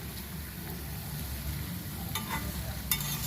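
Eggplant curry, Andhra-style brinjal with onion-chilli masala, frying in oil in a pan with steady loud sizzling, while a spoon scrapes and stirs a few times near the end.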